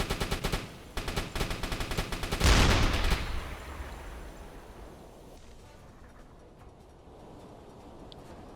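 Rapid deck gun fire from a submarine aimed at a ship in the WWII submarine game UBOAT, a dense string of loud shots building to a heavy blast, then fading into a low rumble, with no voices.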